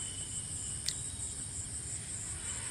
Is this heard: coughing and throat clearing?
no